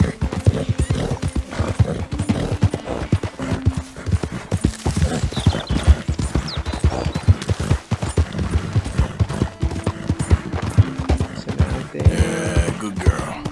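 Horse hooves clip-clopping at a steady gallop in the Red Dead Redemption 2 video game, continuous and fairly loud, with a horse whinnying near the end and faint gunfire in the background.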